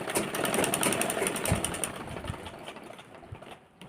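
A sewing machine stitches a netted frill blouse, a close, buzzing motor with fast rhythmic needle ticking and a few soft thumps, fading slightly toward the end, with no voices.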